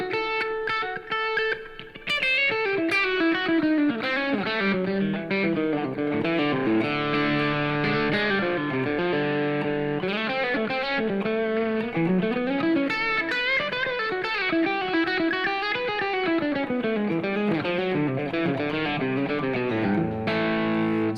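Distorted electric guitar plays a minor pentatonic lick resolving onto the IV chord with a short chromatic walk down, effects-laden lead notes sustained and continuous over backing, loud and steady with no talking.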